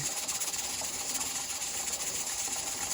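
Steady hissing of escaping steam with a faint rapid rattling underneath, a pressure canner's weight jiggling moderately while canning kale, fairly quiet and continuous.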